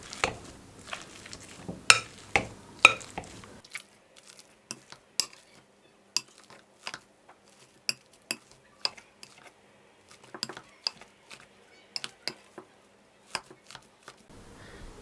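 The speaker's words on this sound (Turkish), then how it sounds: "Haşladığım patateslerimi ezicikle iyice püre haline gelene kadar eziyorum." Boiled potatoes being pressed into a purée with a potato masher: a quiet series of sharp, irregular clicks and squishy taps, some in quick bursts, with short near-silent gaps between the strokes.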